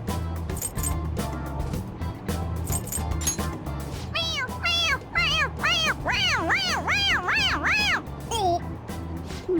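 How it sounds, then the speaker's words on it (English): Toy cat in the video game Persona 5 Royal meowing when its head is pressed: a run of repeated, bright, rising-falling meows, close and loud, over game music and background noise. "It's, a toy! It meows when you press on its head."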